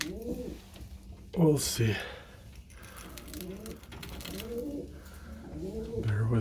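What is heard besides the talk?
breeding pigeons cooing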